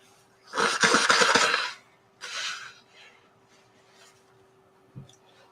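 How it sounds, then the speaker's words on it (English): Someone blows their nose in a strong burst of about a second, then a shorter second blow, with faint sniffs and rustling afterward, close and alone. "Just have to blow my nose."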